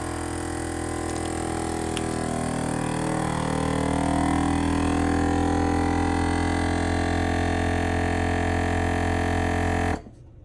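An Anova Precision Vacuum Sealer Pro on its moist setting pumps air out of a bag of fruit, a steady droning motor hum that strains slightly as the bag tightens, then cuts off abruptly near the end.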